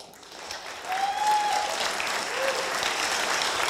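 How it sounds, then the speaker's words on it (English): An audience breaks into applause for a presenter at a startup pitch competition, clapping swelling from a quieter start into a full, steady round that holds to the end. "Let's give him a big round of applause."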